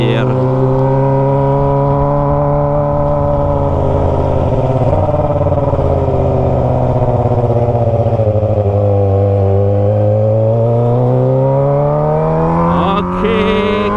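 A Kawasaki ZX25R fitted with a Toce exhaust rides past a crowd on a rural road, its engine loud and close, droning steadily with the pitch sinking and then climbing again as the throttle opens near the end.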